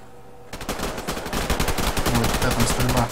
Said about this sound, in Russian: Ой, какая там стрельба.